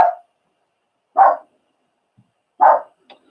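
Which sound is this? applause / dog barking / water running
dog barking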